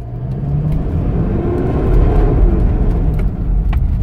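Mitsubishi Pajero engine at working temperature pulling away from a standstill, a loud close rumble that swells as the revs rise, then eases slightly.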